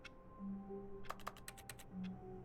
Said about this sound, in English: It just makes typing noises no matter where I am.